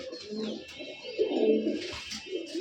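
Giribaz pigeons with red eyes cooing softly, a few low, rolling coos close by in a quiet space.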